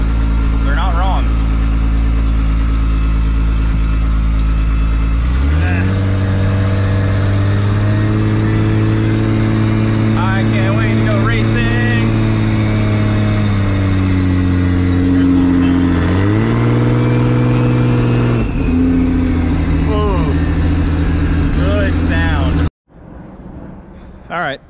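A loud, deep 2JZ six-speed street car engine of about 1500 horsepower with a full exhaust rumbles and revs, rising and falling through gear changes, with a voice talking over it before it cuts off.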